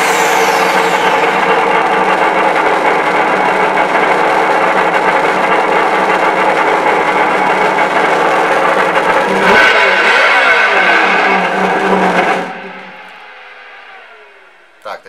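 A steady, continuous engine drone from the sound module of a Traxxas Slash VXL RC car runs for about twelve seconds, then cuts off abruptly into near silence as the engine sound shuts off.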